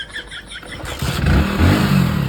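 A motorcycle is kick-started in a rural setting, a few scuffing kicks giving way to the engine catching and settling into a steady close idle rumble.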